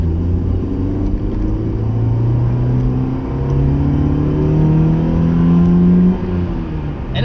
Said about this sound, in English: it's a Honda engine, so you can rev out the engine like that